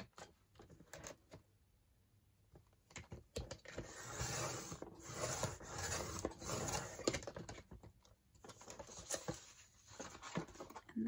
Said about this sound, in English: I need that paper cutter because I've got one sheet left to cut.